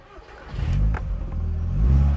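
A modified 240hp Mk1 VW Golf GTi engine catches and idles with a loud, steady low rumble that swells slightly toward the end, with no talking over it.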